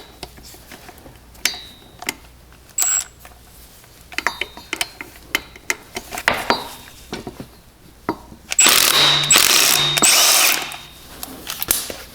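Torx driveshaft bolts come off a BMW E90 325xi/328xi AWD with a ratchet and then an impact wrench, giving repeated sharp clicking ratchet strokes followed by loud bursts of buzzing impact hammering, close up.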